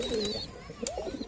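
Pigeons coo in a loft, a couple of soft, throaty rolling calls close by with brief pauses between them.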